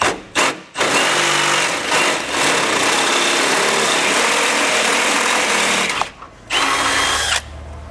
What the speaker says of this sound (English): we're going to drill this out with a 13/16 drill bit